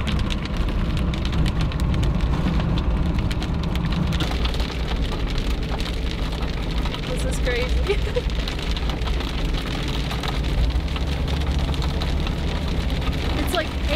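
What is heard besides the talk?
hail-like snow hitting the truck windshield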